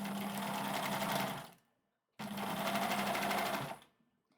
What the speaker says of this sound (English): And I'm just sewing, like, on the edge of the overlocking here.